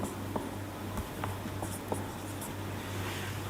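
Chalk or marker taps and scratches on a classroom board as a pair is written during a class 12 maths lecture on relations, giving scattered short strokes over a steady low hum with no talking.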